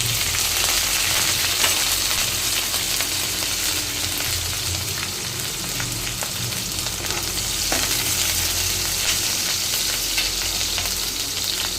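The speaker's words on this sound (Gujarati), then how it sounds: "અને હવે થોડું લાલ થઈ ગયું છે તો આપણે એમાં લીલા મરચાં નાખી દઈશું।" Green chillies and garlic frying in a pan, a steady dense sizzle throughout with occasional stirring scrapes, close and continuous, no talk.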